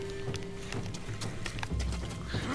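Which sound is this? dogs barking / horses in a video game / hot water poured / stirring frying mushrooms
horses in a video game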